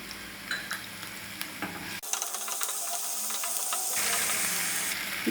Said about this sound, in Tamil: இஞ்சி பூண்டு பேஸ்ட்டு சேர்த்து அதையும் எண்ணெயிலே வதக்கிக்கணும்